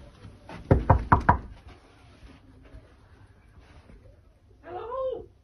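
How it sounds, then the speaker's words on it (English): Four quick, loud knocks on a room door, number 26, in a sharp burst near the start, followed by quiet room noise and a short voice at the end. "So I knock on the door and see what the room's like showing."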